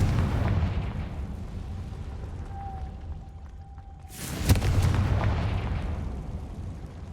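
Confringo fire spell blast in the video game Hogwarts Legacy, a single sharp burst with a booming impact that swells up loud after a quieter stretch with a thin magical tone, then rumbles on.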